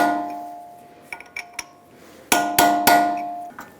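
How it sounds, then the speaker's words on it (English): A hammer strikes a punch to stake the axle nut on a 2007-2011 Toyota Camry, giving several sharp metallic taps, first a few lighter ones, then three loud ringing blows close by. "Using a hammer and a punch, stake the axle nut."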